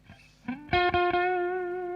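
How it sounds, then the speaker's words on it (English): An electric guitar played through distortion and heavy reverb, with a few quick picked attacks that settle into one loud sustained chord ringing out alone. "thanks for the compliment on the guitar tone, Callum."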